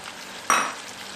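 Blended tomato paste poured into a hot karahi pan for a karahi curry: one sudden loud sizzle that flares up and then settles into steady frying hiss, close and without voices.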